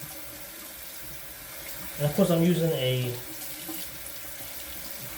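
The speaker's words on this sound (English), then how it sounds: "Of course I'm running the water to get it hot, get the brush nice and hot." Tap water runs into a sink to heat a shaving brush before lathering sandalwood shave cream, a steady wash of flow beneath someone speaking close by.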